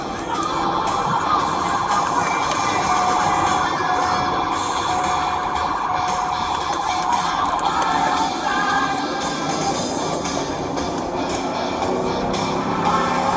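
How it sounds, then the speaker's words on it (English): An emergency vehicle siren wails steadily for the whole stretch, loud and continuous under a dense layer of street noise, with no talking over it. "you can hear the siren."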